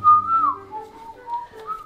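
Melodic whistling in a home kitchen during a father-and-child baking session for milk chocolate slices, a clear wavering tune lasting under two seconds with no talk over it.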